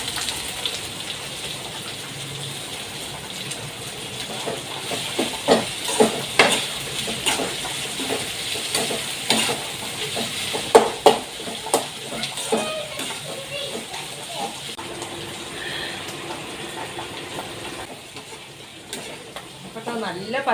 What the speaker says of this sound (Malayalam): ഈ പച്ചമുളകും കറിവേപ്പിൻ്റെ ഇട്ട് കൊടുക്കാം കേട്ടോ.